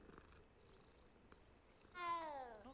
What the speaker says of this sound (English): That meow though, that meow.